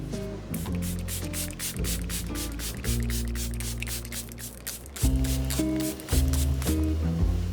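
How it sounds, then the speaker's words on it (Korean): Protector spray waterproofing a Prada bag: a series of short aerosol bursts in an uneven rhythm, close and crisp, with background music running underneath. "마지막으로 프로텍터 스프레이로 방수 처리해주면 끝!"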